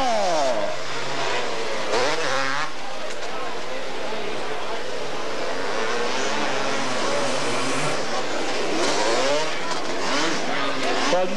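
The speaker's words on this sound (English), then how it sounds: "Here comes your leader now, factory support Kawasaki, Steve Mendenhall." Kawasaki three-wheeler race bikes scream past one after another at a dirt race, engines rising and falling in loud whining passes as an announcer calls over the track.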